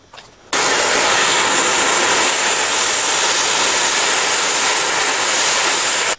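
A torch roars steadily and loudly at close range, a broadband hiss that runs unbroken after it lights, heating the pedal pivot points on an old kart.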